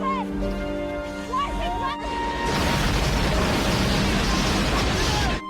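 A large explosion as flowing lava ignites a truck carrying propane, a sudden loud broadband blast that swells after a short lead-in and roars on steadily, with tonal sounds and a voice beneath it beforehand.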